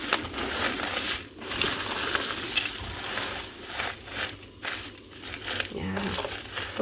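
Paper confetti scraps are stirred in a bin, giving a dense, continuous rustling and crinkling with brief pauses, loud and close.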